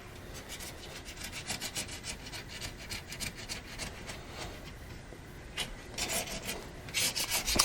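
Thickened filler scraped off a Cat D4 steering clutch part, a steady close rasping and rubbing with repeated short strokes, growing a little louder near the end.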